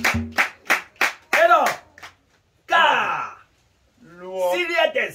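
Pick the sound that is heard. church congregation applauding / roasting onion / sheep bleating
church congregation applauding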